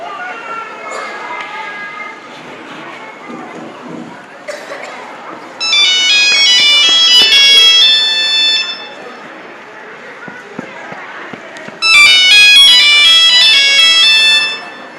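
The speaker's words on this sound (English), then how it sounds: "Raja's phone ringing." A mobile phone ringtone chirps in two loud bursts of high, bright repeating tones, each lasting a few seconds, with quieter voices talking in a hall-like space between rings.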